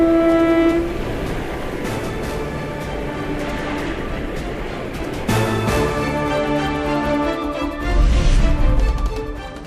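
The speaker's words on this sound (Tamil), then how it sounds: "பாம்பன் பாலத்தில் மிதமான வேகத்தில் இயக்கப்படும் ரயில்கள்." A train rumbles past steadily at moderate speed across the Pamban bridge, with a long horn blast and a rising clatter toward the end, loud and close throughout.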